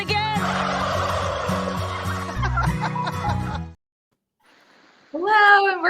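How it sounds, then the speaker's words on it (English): Narragansett turkeys gobble loudly and close by in dense, overlapping bursts, then go quiet briefly before another sharp, warbling gobble rings out. "I got so excited about the gobbling turkeys."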